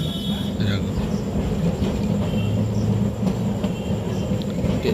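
A steady rolling rumble of a Kolkata tram running along the street, with faint squeals and background noise, fairly close and continuous.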